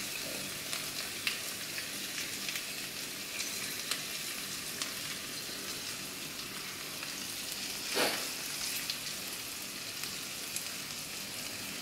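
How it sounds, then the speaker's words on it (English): Ginger and garlic frying in a pan for Kerala-style beef fry, a constant close hiss of sizzling oil with a brief stir or scrape near the end, no talk. "So now I'm going to add in my ginger and garlic."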